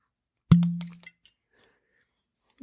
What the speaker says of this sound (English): so I can just pop this cork stopper off